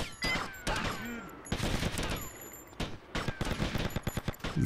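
Rapid bursts from a fast-firing weapon in GTA Vice City, loud staccato volleys with short pauses between them and a quicker chatter of shots near the end, no speech.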